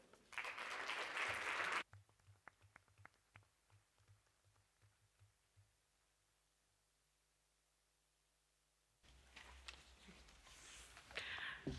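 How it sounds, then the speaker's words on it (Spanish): An audience at a public meeting held by a health research institute bursts into loud applause, which fades into near silence and then returns as a second round of clapping. "Así que le damos un fuerte aplauso"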